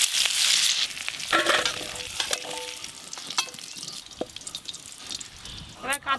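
Potatoes and green tomatoes fry in a pan, giving a steady close sizzle with stirring scrapes and a few clinks, under some faint talk.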